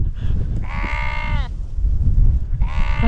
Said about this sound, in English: Hang on, this sheep's going wild here, isn't he?